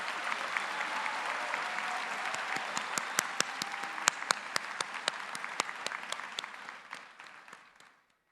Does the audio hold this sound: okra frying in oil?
no